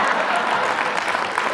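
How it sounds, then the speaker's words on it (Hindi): Audience applause at a live Haryanvi stage performance, a dense, steady burst of clapping from a crowd, close and fairly loud throughout. "क्या बात है, जोरदार तालियां"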